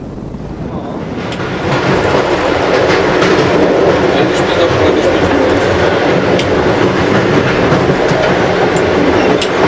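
A train rumbles along the rails with loud, continuous clickety-clack and rattling, heard from inside a car.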